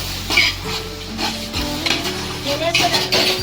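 Biryani masala with ginger-garlic paste, coriander and mint stirred in a pot, with a steady close scraping and clinking of the spoon over a continuous sizzle of frying, and no talk.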